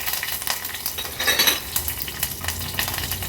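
Hot oil sizzles and crackles as green chilies, dried red chilies and curry leaves hit the pan for a Maharashtrian tempering, with a spoon stirring and clinking against the metal.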